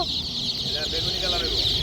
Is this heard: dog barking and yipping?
no